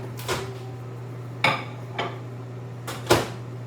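A few sharp clinks of dishes being handled, four separate clatters spaced over a few seconds above the steady low hum of a microwave oven.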